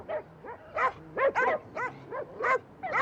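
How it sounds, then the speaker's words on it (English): Many dogs bark and yip in quick, irregular succession, a dozen or so short barks close by and fairly loud, with no voices over them. "I've never heard so many dogs."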